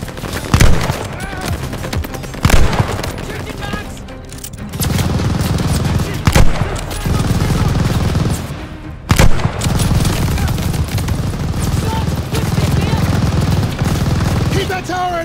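Sustained machine gun fire from a mounted tower MG in Call of Duty: Vanguard, with loud rapid bursts broken by short pauses, sharp single cracks and a steady low battle rumble beneath, with voices faintly under the din.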